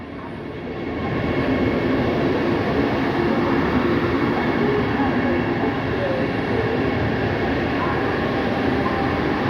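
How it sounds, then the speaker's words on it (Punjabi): A Vande Bharat train on the Amritsar to Delhi route running past at a railway station, a loud steady rumble building in the first second and holding throughout. "ਇਹ ਟ੍ਰੇਨ ਆ ਬੰਦੇ ਭਾਰਤ ਲਗਜ਼ਰੀ ਟ੍ਰੇਨ"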